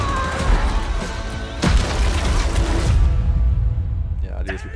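Explosion in Battlefield 5 on a Pacific war map, a loud rumbling blast with sharp crashes over dense battle noise, fading away at the end while a voice chatters over it.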